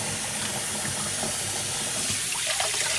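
Cold water runs steadily from a kitchen tap while a whole chicken is rinsed, a continuous close gushing hiss with faint splashing.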